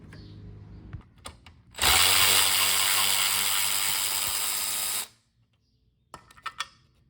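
A power impact wrench drives a seat bracket bolt on a 1997 Jeep Wrangler TJ during a Corbeau sport seat install. It gives one loud sustained burst of about three seconds, with soft clicks and handling noise before and after.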